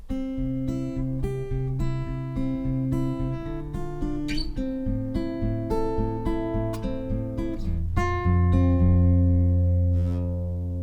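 An acoustic guitar strums a rhythmic progression of open and semi-barre chords with regular strokes. The passage ends on a ringing, sustained chord. No voices are heard.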